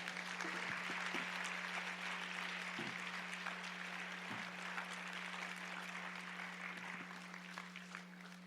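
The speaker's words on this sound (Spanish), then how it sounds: "Dele un aplauso muy fuerte al Señor" A church congregation claps together for the Lord, a steady wash of applause heard faintly and at a distance over a constant low electrical hum, with a few thumps breaking through.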